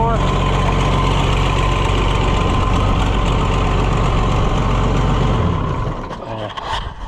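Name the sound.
storm-damaged truck engine idling and running badly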